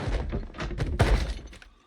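Zombies in a video game bang on a house door with several heavy, irregular thuds and knocks, fairly loud and close, with no talking over them.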